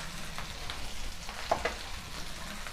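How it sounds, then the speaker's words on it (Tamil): Okra (vendakkai) frying with salt in a pan and being stirred: steady close crackling sizzle with a few scraping taps of the spoon, no speech. "இப்போ ஒரு வாட்டி இதை நல்லா கிளறி விட்டுலாம்"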